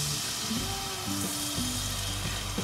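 Marinated masala fish pieces hiss and sizzle steadily in hot oil, a constant close frying crackle with faint clinks of a utensil and no voices.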